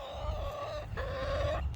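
A hen on fresh pasture gives two drawn-out, crowing calls in close succession, each a steady harmonic cry, near and fairly loud over a low background rumble.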